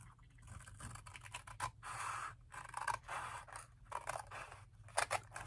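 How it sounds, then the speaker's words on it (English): Scissors cut paper for a junk journal tag in a run of soft, close snips and scraping strokes, fairly quiet and with no talking. "I need to cut off at the next peak."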